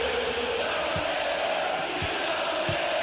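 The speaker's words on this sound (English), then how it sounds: "I think they can sense a comeback here, and so can this crowd." A stadium crowd roars steadily in a PES 2013 football match between Paris Saint-Germain and Inter, a dense, continuous wash of cheering and chanting that holds an even level with a few low thuds beneath it.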